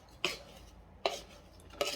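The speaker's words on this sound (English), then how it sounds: "Give this a good stir now." Three sharp clinks of a spoon against a pot, evenly spaced and fairly quiet, as sugar is stirred into a rhubarb and peach jelly mixture, with no talk.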